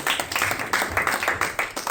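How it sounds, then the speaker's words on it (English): Audience applause at a tech pitch and networking event, a dense steady patter of many hands clapping that carries on without pause and without voices over it. "Can you give a round of applause, please?"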